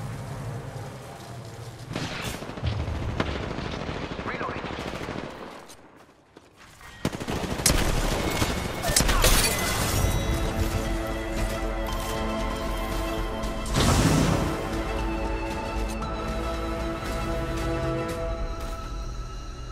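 Dense bursts of automatic gunfire fill an Apex Legends firefight, loud and near, with a short lull before more shots and one heavy blast near the end.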